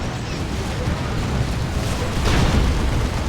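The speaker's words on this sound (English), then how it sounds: "That's going to be a Demolisher Cannon from the Baneblade, knocking around those CSM" A Baneblade tank's Demolisher Cannon fires in a Warhammer 40,000: Dawn of War 2 battle between the Imperial Guard and Chaos Space Marines, a dense, roaring blast that swells near the end over the continuous din of combat.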